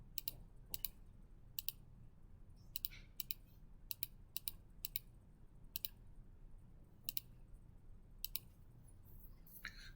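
Calculator buttons being pressed while entering a calculation, a series of faint, crisp clicks at irregular intervals over a low steady hum, with no talking.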